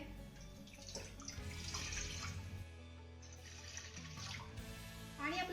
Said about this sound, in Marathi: आता यामध्ये आपल्याला एक ते दीड ग्लास पाणी घालायचंय आहे